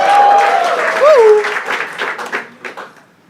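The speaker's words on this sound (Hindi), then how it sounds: "एक बार जोरदार तालियां भाई" Applause and cheering from a crowd, loud at first and tapering off, with a voice speaking over it.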